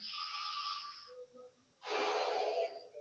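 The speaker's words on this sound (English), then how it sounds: "we're breathing in with the mouth because the nose can't take the volume" Deep breaths drawn in through the mouth during a meditation exercise, two long airy inhalations close to the microphone with a short quiet gap between them.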